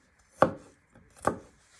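Knife chopping garlic finely on a cutting board for pork paprika, two crisp close strikes about a second apart, with no talking.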